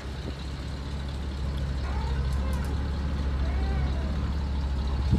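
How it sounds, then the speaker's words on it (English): Hydraulic dump bed of a 1979 GMC G7000 truck being raised: a steady, loud low-pitched pump and engine drone that builds slightly and holds, close by. "Here we're going to raise the bed all the way up."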